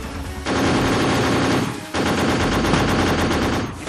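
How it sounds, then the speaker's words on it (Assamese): Heavy gunfire during a CRPF operation, two long sustained bursts of rapid automatic fire, loud and close, split by a brief pause. "पार्टी पर भीषण गोलीबारी शुरू कर दी।"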